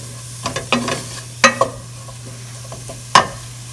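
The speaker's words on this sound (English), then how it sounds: "Stir until the vegetables are all well coated with the spices." Vegetables with chili powder, cumin, cinnamon and cocoa are stirred in a pot, giving several short scraping and clattering spoon strokes over a faint steady hum, with a gentle sizzle between strokes.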